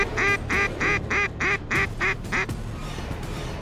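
A duck gives eight loud, evenly spaced quacks close by during duck hunting in New Zealand, then falls quiet with only a soft background remaining.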